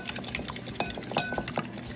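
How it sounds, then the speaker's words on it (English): Three broken eggs being mixed for cornbread batter in a skillet, a quick irregular run of close clinks and taps of utensil against the pan. "For the wet ingredients, we have 3 eggs broken. Okay, mix that up."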